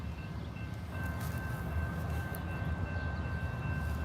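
A train passes a trackside spot in Prescott, Wisconsin, during a live railfan stream. A loud, steady rumble of rolling wheels fills the clip, with a faint sustained tone above it.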